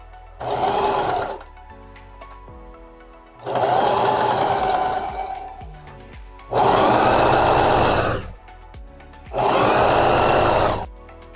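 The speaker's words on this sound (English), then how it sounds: "So let's try just my regular sewing machine." A household sewing machine stitches a thrifted pencil skirt, running in four bursts of steady mechanical whirring and stitching, each a couple of seconds long with short pauses between.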